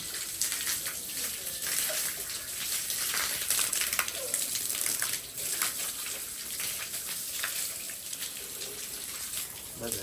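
Water sprays steadily in a forceful hiss while a motorbike is washed outdoors, the rushing noise continuing almost without pause and fluctuating slightly in loudness.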